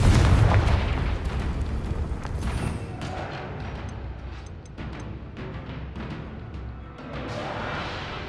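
Confringo blasting spell explosions in Hogwarts Legacy, a heavy booming blast at the start followed by rumbling debris, scattered smaller bursts and crackles of spell combat that gradually thin out.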